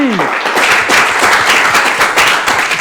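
Applause from a live studio audience at a televised talent show, a dense wash of many hands clapping steadily and loudly throughout, with a brief tonal sweep at the very start.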